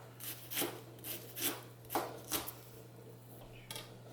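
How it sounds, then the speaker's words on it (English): A knife dices half a red onion on a cutting board in a steady series of crisp chops, about eight distinct strikes close up, over a low steady hum and no speech. "we're gonna dice up half a red onion"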